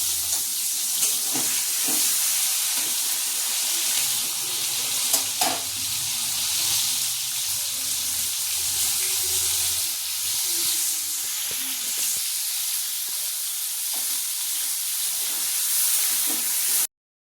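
Large prawns sizzling and crackling in hot oil in a pan, with steady frying hiss and occasional stirring scrapes, close and continuous.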